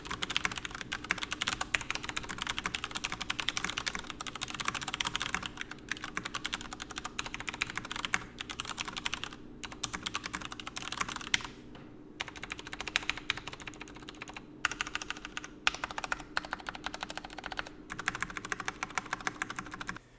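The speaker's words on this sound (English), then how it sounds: "typing creates a nice solid thunk rather than feeling like a hollow, high-pitched noise" Steady typing on a Durgod Taurus K310 low-profile mechanical keyboard, a dense run of solid, thunky keystrokes with short pauses, close and fairly quiet with no talking.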